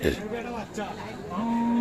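A Friesian cow at a Dinajpur cattle market lets out a single low, drawn-out moo up close, with background chatter of the busy market.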